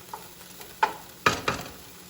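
A spatula scrapes and pushes broccoli aside in a frying pan being used for fried rice, three distinct scraping strokes over a faint background sizzle, with no talking.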